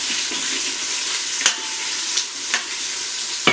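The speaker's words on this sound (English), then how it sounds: "So the onions are starting to saute." Onions sauté in an Instant Pot with a steady, close, bright sizzle and a few soft stirring clicks and taps, and no voices.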